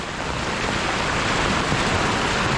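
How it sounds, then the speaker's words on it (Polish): Steady, loud broadband rush of fast-moving, swollen floodwater during a downpour in Krynica-Zdrój, continuous and close, with no voices. "Ta woda jest naprawdę rwąca."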